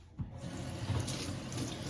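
Kitchen tap water running steadily into a sink while an electric kettle is washed with soap and a sponge, a continuous gentle splashing hiss at moderate level with no talking.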